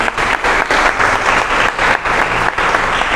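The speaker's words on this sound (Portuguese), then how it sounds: "Você pode aplaudir o Senhor" A church congregation breaks into sustained applause during a worship service, dense clapping from many hands filling the room with only brief dips, loud and close throughout.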